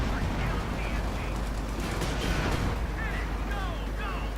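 Battle sounds from Company of Heroes 2 as an infantry-killer tank fights bazooka infantry: constant dense gunfire and explosions rumbling together, loud and unbroken throughout.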